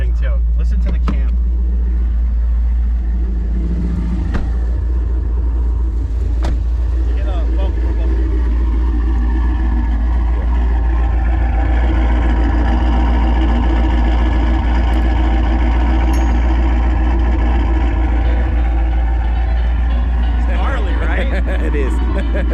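A twin-turbo Dodge Charger with a 5.7 engine idles with a choppy, loping cam rhythm, a deep steady rumble running the whole time while people talk over it.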